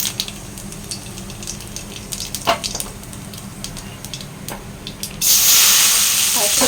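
Black cumin seeds drop into hot oil for tempering and burst into a sudden loud hiss and sizzle near the end, after scattered clinks and kitchen handling noises.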